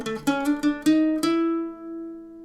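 An electric guitar plays part 2 of the solo: a quick run of about six picked notes, then a final note ringing out and fading, close and clear with no talking.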